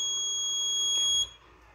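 A bank locker security system built on a Raspberry Pi sounds its alarm, a shrill, steady high-pitched electronic tone that holds for about a second before cutting off, leaving faint room noise.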